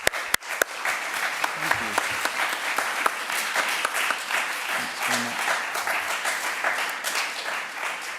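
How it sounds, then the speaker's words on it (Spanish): A press-conference audience applauds the Supernova film team, steady dense clapping over the full stretch, with a few sharp louder claps near the start and faint voices underneath. "Os pido un fuerte aplauso para ellos antes de empezar"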